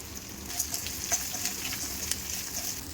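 Curry leaves, asafoetida, onion, chillies and grated coconut fry in hot oil with a continuous close sizzle. Light spoon-stirring clicks come through now and then, with no voices.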